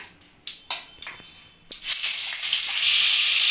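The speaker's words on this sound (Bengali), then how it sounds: "পটল ভাজার তেলের মধ্যেই আমি চিংড়ি মাছগুলোকে ভেজে নেব।" Prawns dropped into hot oil left from frying pointed gourd erupt into a loud, steady sizzle after a few sharp splashes and clicks, growing broader and denser toward the end, with no talk.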